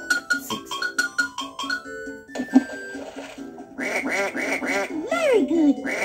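In the 2005 V.Smile Dora video game, a string of electronic chime notes plays first. A rapid series of synthesized cartoon duck quacks follows, bright and repetitive, over light game music.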